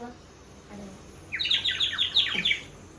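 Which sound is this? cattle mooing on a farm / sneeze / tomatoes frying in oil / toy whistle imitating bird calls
toy whistle imitating bird calls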